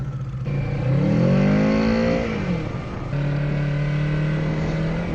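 A Harley motorcycle engine revs up loudly and close, the pitch climbing and falling before it settles into a steady, throaty run.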